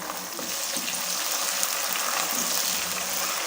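Golden-brown onions with freshly added tomatoes fry in a pan while being stirred, producing a dense, continuous sizzle that is close and even throughout, with no talking.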